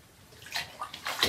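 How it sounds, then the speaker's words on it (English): Water running into a bathtub, a soft close hiss with a few brief splashy bursts that swell and fade over a moment, quiet and without any voice. "I'll show you the water in a bit, because then I'm going to turn it off."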